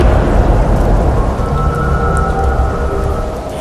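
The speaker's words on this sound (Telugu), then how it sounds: "ఈ వర్షం చూస్తే ఇప్పుడు అప్పుడే తగ్గిలా లేదు" Heavy rain pours down in a steady, loud, dense wash that continues unbroken throughout, with no voices over it.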